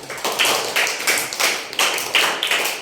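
Children in a classroom clapping together in a short, even burst of about eight sharp, near claps, heard alone with no talking.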